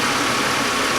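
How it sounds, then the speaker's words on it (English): A used car's engine idling during a mechanical inspection, a steady, even low rumble recorded up close, brief and uninterrupted, with no talk over it. "this engine is sounding okay right now"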